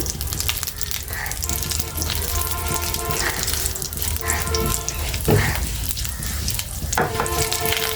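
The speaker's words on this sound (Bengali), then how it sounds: "ঘিটা আমি এখন কেটে রাখা যে বাদামগুলা, আমি এগুলো ভেজে নিব ঘির সাথে।" Chopped nuts fry in about one and a half spoons of ghee, giving a loud, continuous close sizzle with occasional stirring scrapes on top.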